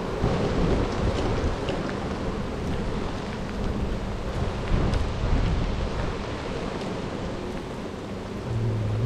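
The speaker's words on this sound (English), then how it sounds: "Pouring rain." Heavy rain pours down steadily in Taipei, a dense wash of noise with low rumbling underneath, loud and continuous throughout.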